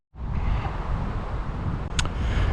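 Steady wind buffets the microphone with a loud, continuous rumbling roar and no talking.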